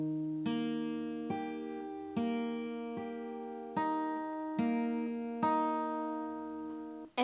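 A guitar fingerpicking pattern for a song, played slowly as clear single plucked notes in a steady rhythm, each ringing out before the next, close and alone with no talking.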